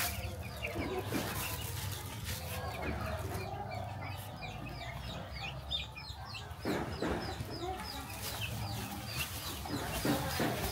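Hundreds of chickens on a poultry farm cluck continuously in a dense, steady chorus, with scattered sharper calls rising above the crowd throughout, a faint background murmur of voices, and no single bird standing out.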